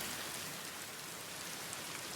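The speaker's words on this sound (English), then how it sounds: "dousing the flame with rain." Rain falling on a tree in the video game Palia, a steady, even hiss of dense rainfall with no pauses or other sounds.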